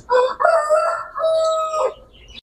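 Birds in an aviary at a weaver and parrot setup call out loudly and close by, a single drawn-out crowing, rooster-like call lasting about two seconds with no talk over it.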